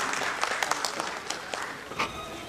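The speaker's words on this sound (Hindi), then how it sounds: "ज़ोरदार तालियों में इस्तकबाल कीजिए" Applause from a concert audience at a tribute evening, sustained dense clapping with a few louder bursts, steady and fairly loud throughout.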